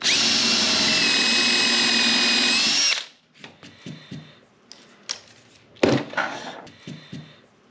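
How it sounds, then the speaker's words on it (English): A power drill boring a pilot hole with a counterbore whines loudly for about three seconds, then stops, followed by scattered clicks and light handling noises. "pilot hole with a counter bore"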